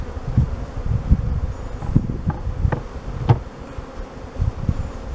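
Honeybees buzz steadily around an open beehive while supers are added, a close, continuous drone with individual bees swelling briefly louder as they pass near.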